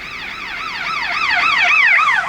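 A red fire engine's wailing siren passes close on a motorway near the Liège–Brussels highway, rising and falling in rapid sweeps over a steady rush of traffic and growing slightly louder.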